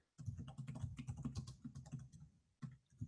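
Typing on a computer keyboard sounds as a dense, rapid run of close, crisp key clicks with a brief pause near the end before a few more strokes.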